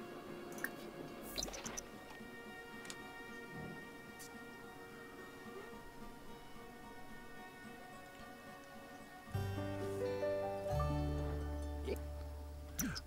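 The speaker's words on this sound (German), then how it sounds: "der gießt nur die Pflanze" Water drips and trickles as a plant is watered in The Sims 4, soft liquid patters over a bed of background game music that grows louder toward the end.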